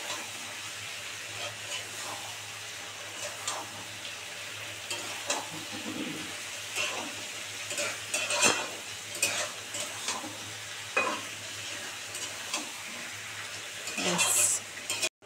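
Bhetki fish chorchori with vegetables fries in plenty of oil while a utensil stirs and scrapes the pan in irregular strokes, a soft sizzle running underneath and a brief hiss near the end.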